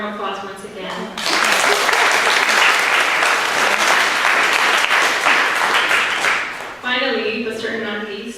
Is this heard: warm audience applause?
yes